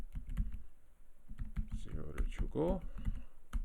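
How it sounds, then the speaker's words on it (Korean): Rust code is typed on a computer keyboard in quick, close clicking bursts while someone talks steadily over the keystrokes. "그래서 하나씩 좀 타이핑 할게요."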